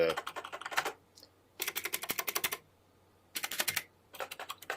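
Buttons on an Obsidian NX2 lighting console pressed quickly in three or four rapid clicky bursts with short pauses between, close and crisp, with no talking.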